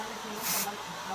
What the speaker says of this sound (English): you want to spray underneath